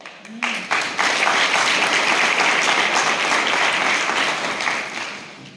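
Sustained applause from a graduation-ceremony audience of small-scale farmers, dense, even clapping rising quickly to full strength and holding steady, with a brief voice at the start.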